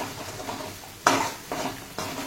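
Spices roast in a pan for matar paneer, with a soft continuous sizzle broken by three scraping stirs or spatula strokes, the first the loudest, heard up close without speech.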